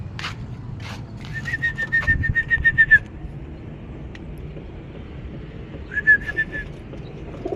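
Young pigeons calling in short, repeated whistled notes, two separate bursts with a pause between, over a low outdoor rumble with no talking.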